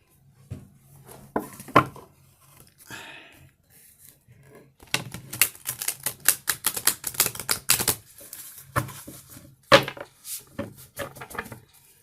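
Rapid papery riffling and slapping of cards being shuffled, in several bursts separated by brief pauses, close by.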